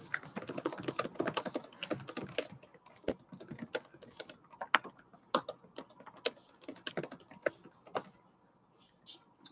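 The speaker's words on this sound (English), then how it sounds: "let me type that in there" Close computer keyboard typing in irregular bursts of sharp clicks, then slowing to a few isolated taps before stopping.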